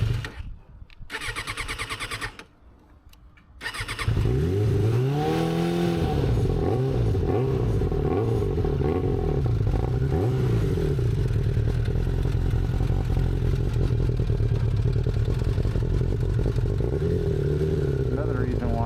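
A motorcycle fires up after a few cranking bursts, then revs and rises and falls through several throttle sweeps before settling into a steady loud engine drone, up close.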